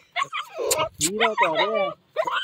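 A puppy that keeps escaping being caught lets out high whimpers and short yelping barks in close, loud bursts, with brief gaps between them.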